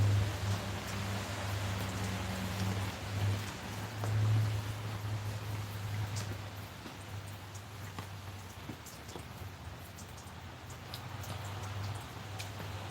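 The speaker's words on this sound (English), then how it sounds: "Rain rolls off." Steady rain falls outdoors in calm, windless weather, a continuous soft patter with a low hum underneath and scattered sharper drops, holding at a moderate level throughout with no talking.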